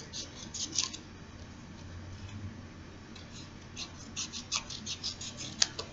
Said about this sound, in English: I'm just going to grab my scissors and do it.